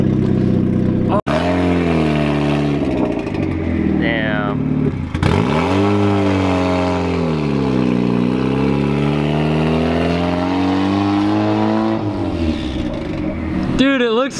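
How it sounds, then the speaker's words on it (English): A boosted Mazda Miata revs and pulls away with rising and falling engine pitch through several gear changes. The engine stays loud and close throughout while people talk and cheer over it. "I have never seen my car rolling away before."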